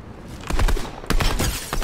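Rapid gunfire in a shooter video game, several sharp shots in quick bursts at close range, loud and clustered in two volleys with no talk.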